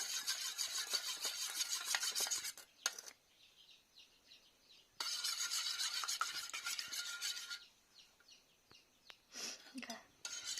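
Cake batter with sugar being stirred in a bowl, giving repeated bursts of scraping, rasping friction separated by short pauses, close and fairly loud.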